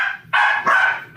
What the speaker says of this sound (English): The house dogs are going crazy.